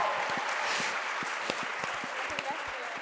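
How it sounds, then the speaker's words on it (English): An audience at a business debate claps for the team arguing against, a soft, thinning spatter of hands with sparse distinct claps over a low crowd murmur. "And for the against team, please clap now."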